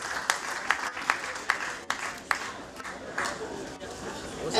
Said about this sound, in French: Applaudissez pour elle, applaudissez, applaudissez s'il vous plaît.